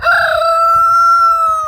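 A rooster crows loudly and close in a chicken coop, one long drawn-out call holding a steady pitch, while a few chickens cluck softly underneath.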